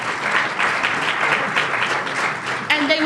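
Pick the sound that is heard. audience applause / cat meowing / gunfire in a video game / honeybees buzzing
audience applause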